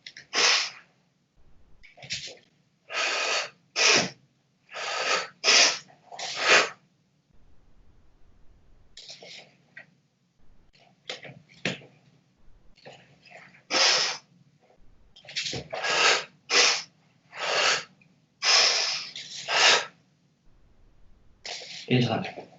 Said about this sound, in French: Je le fais avec la respiration sonore pour que vous entendiez